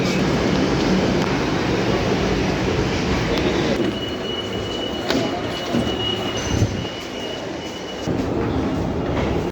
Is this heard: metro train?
yes